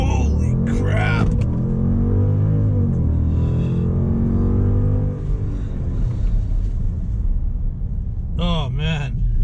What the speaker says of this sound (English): here's a quick 0 to 60 in the 2018 Jeep Grand Cherokee SRT